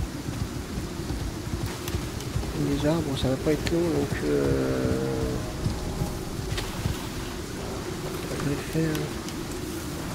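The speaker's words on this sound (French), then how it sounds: "Je vais essayer de tenir un peu sous la tempête là." Rainstorm in the survival video game Icarus, a dense continuous hiss of heavy rain filling the background while someone talks over it.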